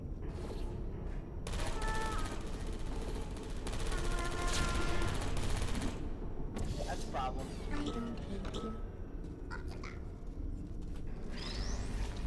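Rapid automatic gunfire from a turret in a Portal-style video game, sustained bursts of shots in a steady clatter lasting several seconds.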